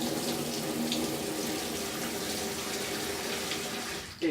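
Tap water runs steadily into a sink, a continuous close splashing stream that cuts off abruptly at the very end.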